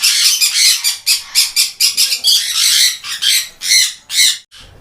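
Female sun conure kept as a hand-tame aviary bird, letting out a rapid series of loud, harsh, shrill squawks in bursts, close by with no other sounds.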